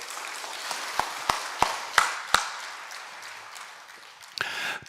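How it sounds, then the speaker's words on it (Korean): A handful of separate, sharp claps ring out one after another from a congregation at a fasting prayer house service, fairly close in a quiet room, then a short, denser burst of clapping near the end. "다시 한번 박수 치세요."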